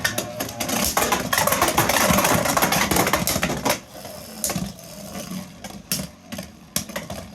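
Beyblade tops Samurai Caliber (BX-45) and Shark clash in a stadium: a dense, loud whirring grind for about four seconds, then sparser, quieter spinning broken by sharp scattered clacks of impact.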